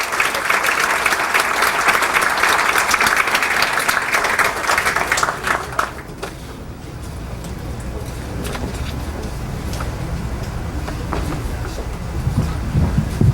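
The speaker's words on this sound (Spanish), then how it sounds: "Así que recibamos con un fuerte aplauso" A lecture audience at a university hall in Lima breaks into loud, sustained applause welcoming a guest speaker, dense clapping for about six seconds that then thins into a murmur of room noise.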